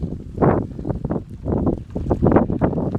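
Gusty wind buffets the microphone in rough, uneven bursts, loud and close, with no talking.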